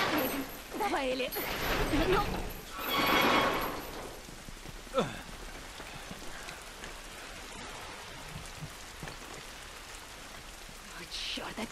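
Rain in the video game The Last of Us patters and hisses steadily throughout, heavier early on and easing to a softer, constant wash, with a voice talking over it at the start.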